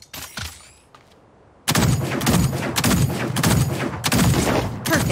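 Rapid gunfire from the mech-combat shooter game Super Mecha Champions, loud dense bursts running almost continuously after a brief quieter lead-in with a few sharp shots.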